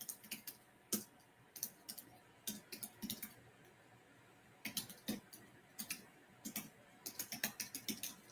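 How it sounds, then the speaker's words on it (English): Someone types on a computer keyboard in irregular bursts of close clicking keystrokes separated by short pauses, with no talking over it. "Let me type it again."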